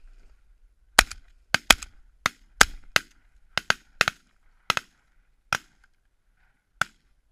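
Shotgun volley at geese during a goose hunt: a dozen or so sharp reports from several guns in an irregular burst, heard at moderate distance with no voices.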